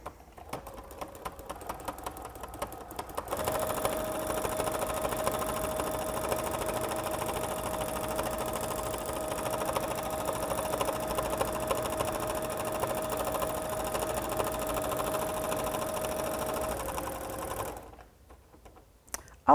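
A sewing machine stitches steadily for about fourteen seconds as it quilts fabric held on a tabletop fabric frame, a continuous close mechanical whirr with brief quieter handling before and after.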